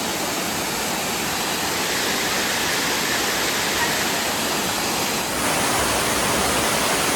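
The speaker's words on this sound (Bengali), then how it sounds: "কতগুলো ধারার মাধ্যমে এই ঝর্ণার জল উপর থেকে নিচে নামছে" Elephant Falls in Meghalaya, India, pours down in several streams, making a loud, constant broadband roar of rushing water heard up close with no voices.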